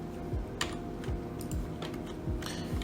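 Several computer keyboard key presses, spaced irregularly through the clip, crisp and close with faint clicking between them, during a 3ds Max and Lumion rendering workshop.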